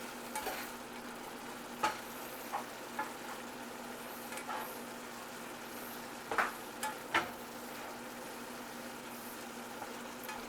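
Ground beef frying in a greasy pan for Hamburger Helper Stroganoff, a steady soft sizzle with occasional scraping knocks as the meat is stirred, fairly quiet and without talk.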